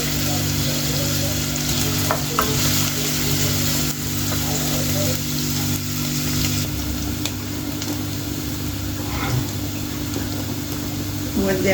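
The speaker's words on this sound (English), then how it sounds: "You go in with your onions and let them cook until they are slightly brown." Onions fry in a pan with a steady close sizzle and crackle, a low mechanical hum running beneath and occasional stirring scrapes.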